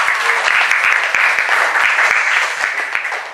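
Students in a classroom break into dense, steady applause that stays loud and even, with sharp individual claps standing out, then tapers slightly at the end.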